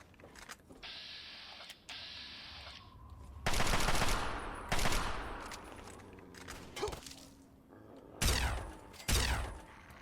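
Plasma rifle fire in Fallout 3 comes as loud bursts of electric zapping shots and energy discharges, mixed with whirring game sounds and mechanical whines.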